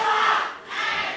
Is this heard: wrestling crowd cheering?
yes